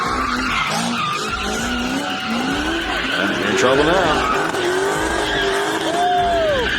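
A street racing car skids on the road with long, rising and falling tire squeals over a loud engine, close and continuous, while a person talks over it.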